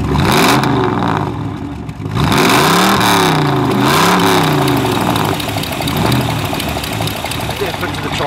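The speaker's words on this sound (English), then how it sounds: "The car is in 1972 with a Rover V8, as you can see, with an Elderbrock carburettor." A 1972 Triumph Stag fitted with a Rover V8 and Edelbrock carburettor runs close by, idling loudly with several rising and falling revs, while someone talks over the engine.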